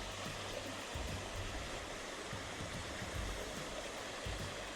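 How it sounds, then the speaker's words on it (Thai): A steady, dense roar of rushing water at Nakharat Waterfall in Nam Nao, Thailand, constant and fairly close, pouring without pause. "เราก็ถึงน้ำตกนาคราช"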